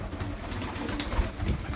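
Racing pigeons in a young bird loft give low, muffled coos over a steady rustling background, soft and continuous with no voices.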